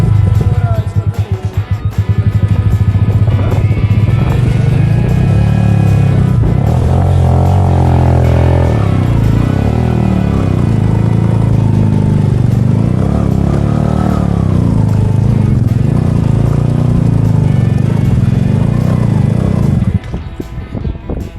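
A motorcycle engine labours steadily up a steep mountain climb on a rough road to a remote village in Pakistan, its loud droning exhaust rising and falling in pitch under strain for about twenty seconds before dropping off.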